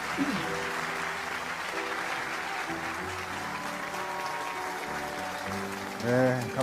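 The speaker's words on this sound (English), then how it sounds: "Let us give Dr. Hak Ja-han Moon another warm round of applause" An audience at a Rally of Hope event applauds, a soft, steady wash of distant clapping under sustained background music, with a brief swell near the end.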